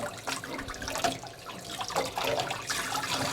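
Tap water runs during a bath for Aussiedoodle puppies, a soft continuous splashing and trickling stream, fairly quiet and close, with no talking.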